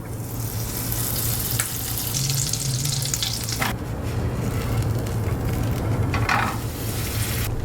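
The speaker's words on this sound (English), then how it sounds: "you have to toast it for it to be good" A sandwich toasts in butter in a pan, giving a continuous close sizzle with a few scraping clicks and no talking.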